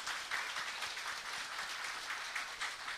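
Church congregation gives encouraging applause for the choir, a soft, even wash of many hands clapping heard from a distance at low level, with no talking over it.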